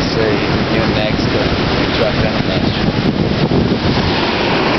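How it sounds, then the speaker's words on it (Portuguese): Ocean waves breaking continuously at Rio Nexpa, a steady loud broadband roar of surf filling the whole stretch, with a few faint voices underneath. "As ondas não param de quebrar"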